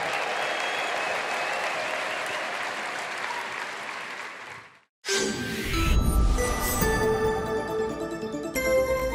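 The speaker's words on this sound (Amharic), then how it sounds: "ለጌታ ክብር እልልታ ጭብጨባ እናመጣለን" Church congregation bursts into sustained applause and ululation after a pause, loud, dense and continuous crowd clapping with high trilling voices layered over it.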